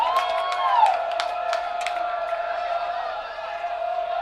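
Crowd noise from a high school lacrosse game between Culver and Hamilton Southeastern, a steady roar of spectators cheering with sharp whoops and shouts rising over it throughout.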